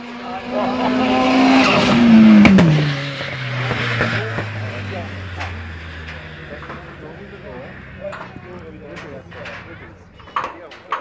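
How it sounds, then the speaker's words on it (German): A 400 hp turbo race car at the Hemberg hill climb roars past close by, its engine pitch dropping as it speeds away, with tire noise and a commentator talking throughout. "Jetzt der Hermann Bollhalter an, mit dem Speedy, mit dem Spitz, der Turbo"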